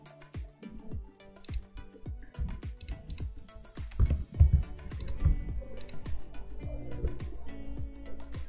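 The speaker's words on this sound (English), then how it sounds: "press control on your keyboard" Computer keyboard keys pressed repeatedly during Photoshop work, a steady run of close, sharp clicks and taps with some louder thumps midway, continuing throughout without speech.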